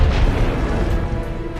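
A SAM missile strikes a fighter jet in Top Gun, a dense, continuous low rumbling explosion roar that fills the entire moment without a distinct onset.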